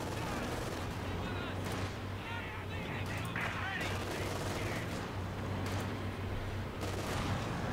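Artillery and gunfire in the Company of Heroes 2 video game, dense bursts of shots and blasts rattling continuously at moderate volume, with the player talking briefly over the battle.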